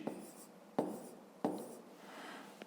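Pen or pencil writing numbers by hand on paper while working a fifth-grade maths exercise, three distinct scratchy strokes of scribbling, close and clear in a quiet room.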